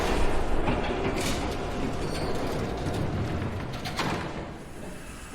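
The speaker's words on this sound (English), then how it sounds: "There's a train coming." A train rumbles past in the Batman Telltale video game, a loud continuous roar of rolling wheels and rail noise with a few sharper clanks, steady throughout with no voices.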